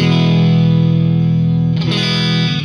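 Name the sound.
electric guitar with .07 gauge strings, distortion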